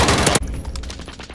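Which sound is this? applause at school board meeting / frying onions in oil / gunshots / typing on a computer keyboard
gunshots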